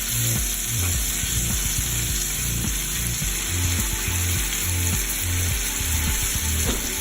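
Food sizzles and fries steadily in a pan of butter and olive oil, a continuous close hiss with occasional scraping and clinks from handling, no talk.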